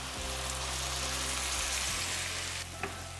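Dry white wine, a quarter cup, hitting a hot pan of cooked-down, tender celery and bursting into a loud, steady sizzle that fills the moment, with a brief bump and easing near the end.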